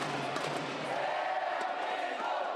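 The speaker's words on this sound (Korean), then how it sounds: "경기가 시작되자 함성 소리로 건물 전체가 들썩입니다" Students fill a university building lobby, cheering while watching South Korea play Uruguay in a World Cup match, producing a dense, continuous roar of crowd voices that stays loud and even throughout.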